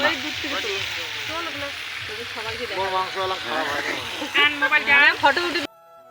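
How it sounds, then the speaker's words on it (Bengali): A steady sizzling hiss of meat frying in a pan runs throughout, with a person talking over it before it cuts off abruptly near the end. "ভালো করে একটা ভাজা করবো না।"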